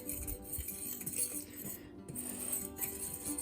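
Dry ingredients stirred in a bowl, with soft irregular clinks and scrapes of a utensil against the bowl, quiet and close, without talking.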